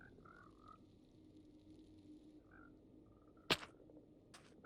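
Frogs croak softly now and then in a Minecraft Java 1.21 world, with faint chirpy calls over a low background hum and one sharp click partway through.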